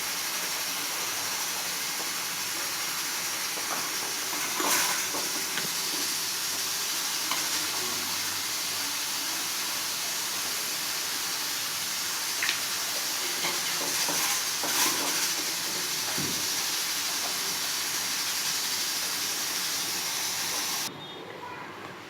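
Rice boiling in a pot of water for white biryani, a long, steady bubbling hiss close to the pan, with a few faint clinks along the way and the sound dropping near the end.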